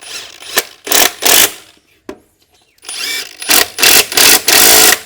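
An impact wrench running on bolts in a workshop while rebuilding a 727 Torqueflite transmission, with loud, close rattling bursts, two short ones, a pause with a brief click, then a longer series of hammering bursts.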